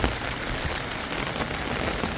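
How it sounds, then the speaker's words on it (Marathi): Steady rain falls during monsoon flooding in Deglur town, a dense, even hiss of drops on surfaces that continues unbroken and fairly close throughout. "कालपासून पावसाला सुरुवात झालेली आहे"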